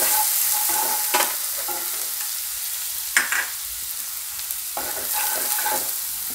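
Asafoetida and garlic sizzle in hot oil for a Gujarati zunka, with a steady frying hiss and a few sharp spoon scrapes and stirring clatters in the pan.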